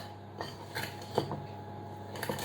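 A spoon scrapes and taps softly against a bowl while vegan chocolate cake batter is stirred. A few faint, irregular clinks and rubs rise from a quiet background.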